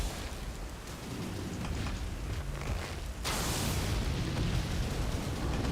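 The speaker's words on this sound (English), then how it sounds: "Let fly those rain of arrows." A Rain of Arrows attack in the video game Elden Ring brings a dense, roaring wash of noise that suddenly grows louder and brighter partway through and stays heavy to the end, with no speech.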